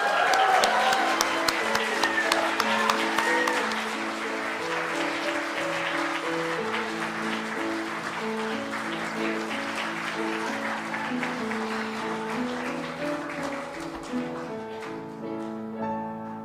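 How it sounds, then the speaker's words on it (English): Audience applause and cheering for a young adult at a bridging service, sustained clapping that starts strong then settles under music, moderately loud throughout. "Let's give a huzzah and a cheer for this young adult."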